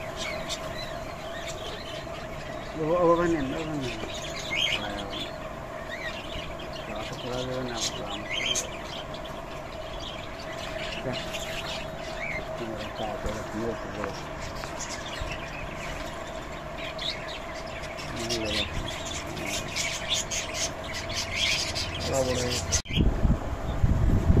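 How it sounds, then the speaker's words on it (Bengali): Pakistani blue pigeons coo now and then in a loft, with a few soft, rounded calls spread among low background noise and occasional murmured voices. "এটা হচ্ছে নীলা কবুতর, পাকিস্তানি পায়রা।"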